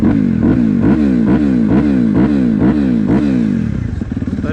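Suzuki RMZ 250 motorcycle fitted with a Vortex ECU, its engine running loud and close with a pulsing, rising rev pattern before easing off at the end.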